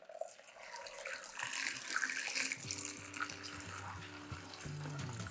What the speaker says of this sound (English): we're going to pour over boiling water to cover them completely